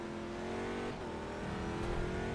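A Corvette C6R GT2 race car in the rFactor 2 racing game drones loudly and steadily from the onboard view. The engine drops briefly around a gear change, then climbs again, with no voice over it.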